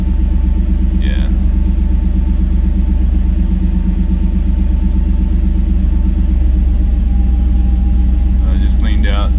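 A turbocharged EFI 460 engine with an S480 turbo idles in a loud, steady, close-up rumble, with faint turbo whistle and short revs breaking through near the start and the end.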